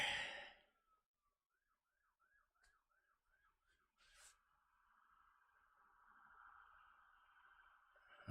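A faint, distant police siren warbles in quick cycles, then holds a long, steady wail that slowly grows louder.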